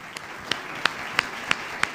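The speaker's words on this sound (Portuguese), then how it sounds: "Palmas para o Espírito Santo." A church congregation claps in slow, steady unison during a sermon, giving six sharp, evenly spaced claps about a third of a second apart. The claps are fairly faint over quiet room noise, with no talking.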